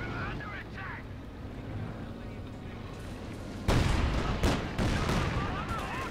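Heavy tank cannon shots hit a German Panther in the Company of Heroes 2 strategy game, with a low rumbling battle ambience and then two or three sharp, loud blasts in the second half.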